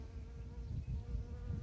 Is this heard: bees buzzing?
yes